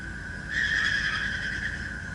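A Mustang Cobra at a drag strip spins its rear tires in place to warm them, giving a steady, loud screech that swells and holds for a couple of seconds.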